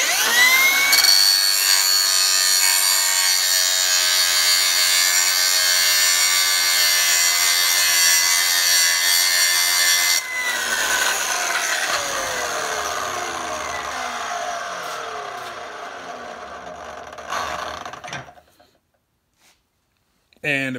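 A 3M Cubitron grinding wheel grinds hard-facing weld metal with a loud, sustained abrasive whine that shifts in pitch partway through. The grinding runs continuously at close range, then spins down and falls silent near the end.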